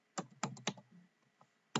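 Fingers type on a computer keyboard while entering a login, a few close clicks in a quick burst and then one more keystroke after a short pause, with no talking.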